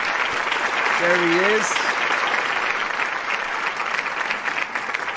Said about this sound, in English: Cue the round of applause.